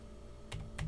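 A few quick keystrokes are typed on a computer keyboard while entering network switch commands: two or three soft, close clicks against a quiet background.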